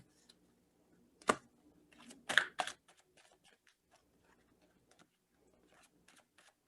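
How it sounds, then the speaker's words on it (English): Tarot cards are shuffled in quick riffling bursts, with a sharp snap and scattered light ticks in a quiet room. "I'm going to start shuffling"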